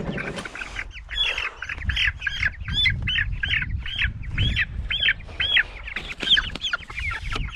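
A flock of meat chickens on pasture peeping and clucking in a rapid, continuous chorus, close and fairly loud, with rustling and low thumps underneath.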